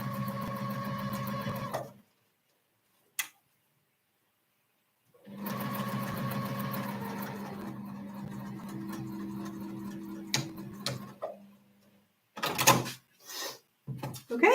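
A sewing machine stitches fabric in two steady runs of whirring and clatter separated by a pause, with a few sharp clicks and knocks near the end, close by and fairly quiet.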